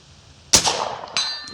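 A single sharp crack of a Miroku Winchester 1892 firing 45 Colt +P at a 100-yard range, followed moments later by a faint distant ring of a steel plate hit.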